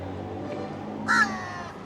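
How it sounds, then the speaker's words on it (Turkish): A single crow caws sharply nearby over a steady background murmur of outdoor ambience in Sri Lanka. "Kargalar hiç çekilmiyor bile"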